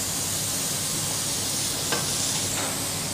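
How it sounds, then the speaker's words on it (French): Sliced onions and leeks sweating in a pan for pumpkin soup, giving a steady, even sizzle and hiss that holds at one level throughout, with one faint scrape partway through. "This is cooked until the leeks and onions have softened but not browned."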